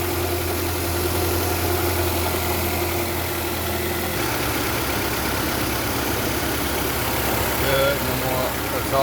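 A Nissan Altima engine idles steadily after an exhaust manifold and catalytic converter replacement, a close, even hum with a low drone and no exhaust leak ticking, the tone shifting slightly midway.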